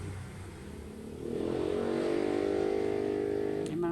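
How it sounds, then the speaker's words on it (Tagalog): A motorcycle passes by outside, its engine hum swelling from faint to a steady nearby drone before fading, heard from indoors in the Philippines. "Yung mga dumadaan pa mga motor"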